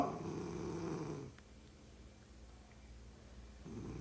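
A woman snores nearby, a low rasping rumble that fades into quiet after about a second and returns faintly at the end.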